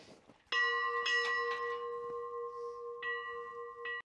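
A château's bell rung by pulling its chain sounds out in several clear metallic strikes with long ringing tones, close and loud, no talk.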